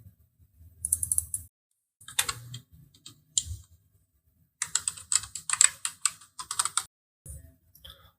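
Bursts of keystrokes on a computer keyboard while entering a name, email and password into a sign-up form: quick rapid clicks in several clusters separated by short pauses, close and clear with no talking.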